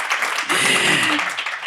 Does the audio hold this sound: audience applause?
yes